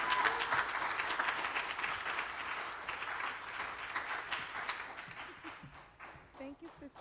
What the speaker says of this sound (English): please give Kim a round of applause